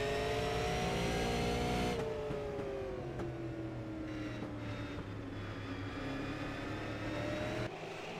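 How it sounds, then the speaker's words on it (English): Race cars in an Ice Bowl 2018 qualifying race driving into turns one and two, with a loud, sustained engine drone whose pitch slides steadily as the field passes and another car's engine joins midway. "Cassidy and Lamb drive into 1 and 2"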